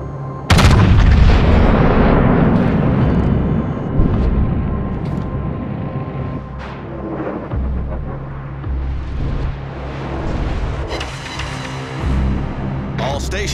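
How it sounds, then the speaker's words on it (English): Anti-aircraft guns fire in a war game, opening with a loud booming salvo, then sharp scattered shots and rumbling bursts that settle into a continuous roar, with voices heard at times. "Provide anti-aircraft fire."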